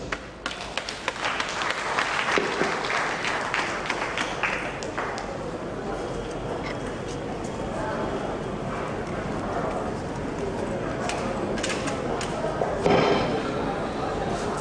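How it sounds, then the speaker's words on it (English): Applause rolls through the audience at a chamber of commerce event, a long, even patter of many hands that stays at a moderate level with a brief swell near the end, with voices mixed in. "I believe we can do better by giving Dr. Sodade a bigger applause."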